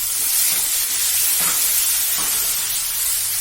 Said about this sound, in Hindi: इन्हें भी 2-1 मिनट के लिए थोड़ा सा भून लेंगे।